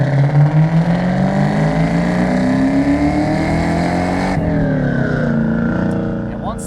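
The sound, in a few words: supercharged 1998 Ford Cobra 4.6 V8 accelerating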